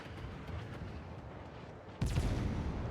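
Naval guns firing at the cruiser Seattle in the World of Warships naval combat game, a low, rumbling background roar broken by a sudden heavy boom of a salvo about two-thirds of the way through.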